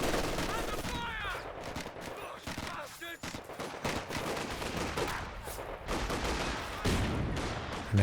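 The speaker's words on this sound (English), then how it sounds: "Another team opening up on the machine gun in the capture circle there" Machine gun fire in the video game Company of Heroes 2, rapid bursts of battlefield gunfire and distant blasts running continuously beneath a commentator's talk.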